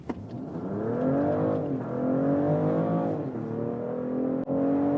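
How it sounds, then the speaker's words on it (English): A BMW X5 plug-in hybrid SUV accelerates hard in sport mode, combining its combustion engine and electric drive, with a loud rising engine note that climbs through several gear shifts, heard from inside the cabin. "Let's put to the sport mode and also sports or S shifting mode, getting the boost from both drivetrains, combustion engine and electric drive."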